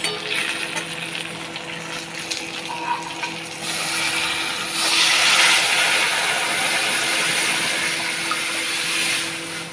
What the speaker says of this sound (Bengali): এবার আমি ডালটা এর মধ্যে ঢেলে দিই